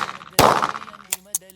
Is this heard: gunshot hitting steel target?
yes